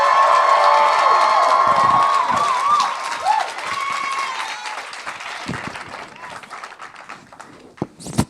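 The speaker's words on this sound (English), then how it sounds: "Let's give Doechii a big round of applause again." Audience applause and cheering for the artist Doechii, loud and dense at first, then thinning out over several seconds with scattered claps and shouts near the end.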